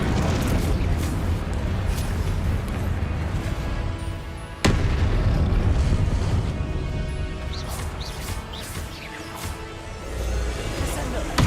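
Spell blasts and magical combat in the video game Hogwarts Legacy, with a sharp loud bang near the middle over continuous dense rumbling action and game music, while a voice talks throughout.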